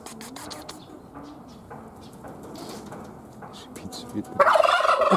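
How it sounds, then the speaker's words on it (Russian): A turkey in a petting-zoo enclosure lets out a loud burst of gobbling near the end, after quieter rustling and faint clucking sounds from nearby birds. "индюки."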